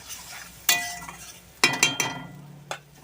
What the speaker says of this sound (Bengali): ভালোভাবে মশলাটা এবার কষে নেব।